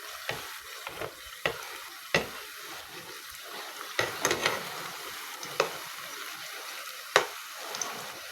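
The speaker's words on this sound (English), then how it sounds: "Then I'm frying another one because I don't like plantain that burn." Quiet, steady sizzling of plantain frying in oil, broken by scattered sharp clicks and scrapes of a utensil.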